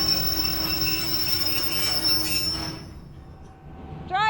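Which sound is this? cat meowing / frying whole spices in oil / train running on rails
train running on rails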